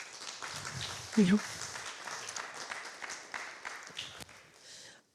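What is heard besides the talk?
audience applause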